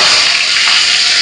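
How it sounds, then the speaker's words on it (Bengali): Potatoes fry in hot oil tempered with black cumin seeds, giving a loud, close, unbroken hiss of sizzling that holds steady for the whole moment. "এই আলুগুলোকে ভেজে নেব।"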